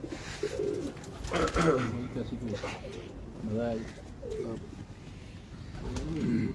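Pigeons cooing repeatedly at close range, with soft rolling coos and a bit of fluttering and background murmur.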